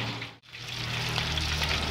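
Freshly caught river fish fries in a pan with petai beans, giving a steady, close sizzle and crackle that dips briefly near the start and then runs on evenly.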